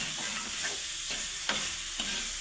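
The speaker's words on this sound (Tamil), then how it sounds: "தக்காளி போட்டு வதக்குங்க." Onions and tomatoes sauté in a pan for a dried fish curry, giving a steady close sizzle with soft stirring scrapes and a few sharper clinks of the spoon against the pan.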